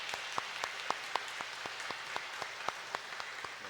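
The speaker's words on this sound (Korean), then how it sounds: "크게 박수로 맞이하겠습니다." A Korean church congregation claps in welcome for newcomers during a Sunday service, a soft, distant wash of applause with a steady pulse of louder, regular claps repeating throughout.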